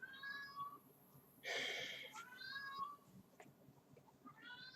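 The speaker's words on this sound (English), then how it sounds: "Why are you meowing at me?" A cat meows repeatedly in a room with the door closed during a PC gaming stream of Injustice 2, its calls fairly clear over low background noise, with a brief louder noise burst partway through.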